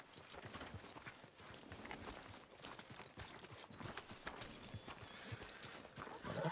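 Horse hooves clip-clop steadily on the ground in the video game Red Dead Redemption 2, a quick continuous rhythm of close, fairly loud hoofbeats with no talk.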